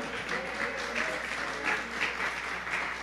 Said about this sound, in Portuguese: Uma grande salva de palmas para o Senhor.